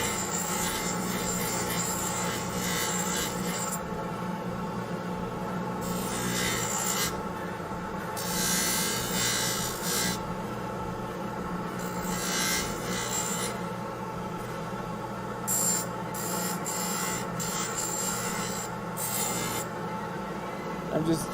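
Rotary trimmer grinding down an acrylic orthodontic appliance, a steady loud whirring hum with repeated rasping bursts as the piece is pressed against the wheel and lifted away.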